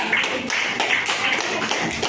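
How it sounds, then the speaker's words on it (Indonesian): Students in a classroom clap for a group, a brief patter of scattered hand claps at close range, fairly even and without talk. "tepuk tangan dulu untuk kelompok 3"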